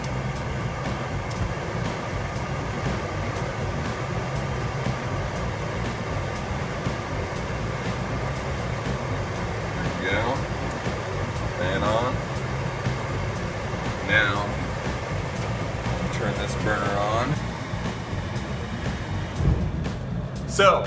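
Gas burners on a reduction kiln are turned up and fire with a constant low, rushing roar. A voice speaks intermittently over the steady drone.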